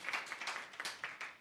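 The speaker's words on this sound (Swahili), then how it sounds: "Makofi kwa MCS." Brief applause for the MCS at the Meru County Government monthly press briefing: a small group claps in sharp, distinct bursts, fairly quiet and short-lived.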